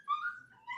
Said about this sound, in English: there was a puppy making some noise over there